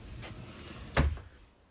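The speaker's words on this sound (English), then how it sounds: "it's just a pull across and then a latch in." A caravan toilet door slides across and latches with one sharp, close knock midway through, against a quiet room. The unit is a 2023 Swift Elite 580.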